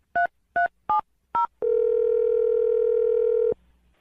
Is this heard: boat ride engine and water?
no